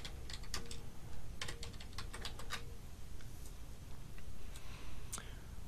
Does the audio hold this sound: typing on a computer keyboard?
yes